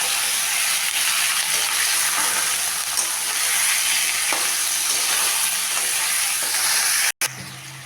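Chili powder, Kashmiri chili powder and ground coriander frying in a pan for a curry-leaf chicken dish, a loud continuous sizzle and hiss with faint stirring, cut short by a brief gap near the end.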